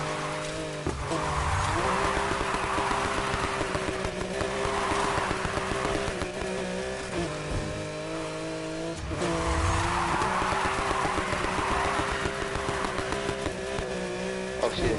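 Race car engine in the Need for Speed Heat video game, revving hard and droning steadily around a track with tire squeal and skidding, loud and continuous for the whole stretch.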